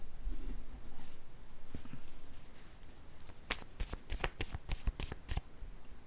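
A deck of tarot cards is shuffled close by, starting with soft handling and breaking into a quick run of crisp riffle snaps near the end.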